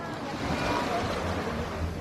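Sea waves wash in at a beach during a small child's first beach visit, a continuous broad rush of surf with a low rumbling wash and some wind buffeting the microphone, steady and moderately loud throughout.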